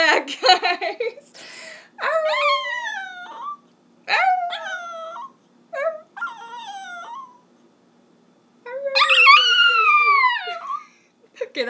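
A dog howls and whimpers in several drawn-out, wavering bursts separated by short pauses, ending with one long rising howl; close and fairly loud.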